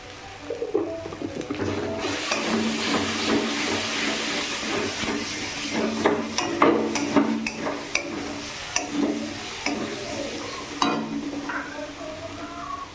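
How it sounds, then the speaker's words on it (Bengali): Spiced potatoes sautéing in oil for aloo dum, a steady close sizzle and frying hiss with scraping stirs throughout and no voices. "আস্তে আস্তে এটা কষাতে হতে থাক"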